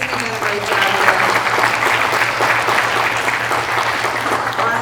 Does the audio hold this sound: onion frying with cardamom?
no